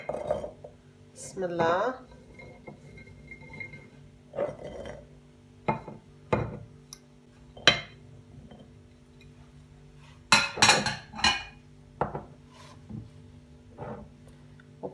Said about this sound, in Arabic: بحط الحار بالمرتبان